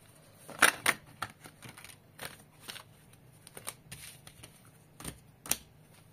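Quiet tarot or oracle cards being shuffled by hand: a run of soft papery riffles and flicks, several sharper snaps, close and alone without any talk.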